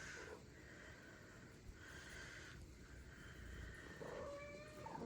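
Kittens and their mother cat meowing indoors, a few short high mewing calls rising over a steady low background hiss, with a clearer drawn-out meow near the end.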